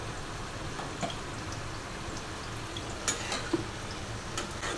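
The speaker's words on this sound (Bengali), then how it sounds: "ফ্রাই প্যানে তেল দিয়ে দিয়েছি, পেঁয়াজ মরিচ দিয়ে ডিমটা ভাজা হচ্ছে।" Egg frying in oil with onion and chili in a frying pan, a steady close sizzle with a few soft ticks and pops, no voices.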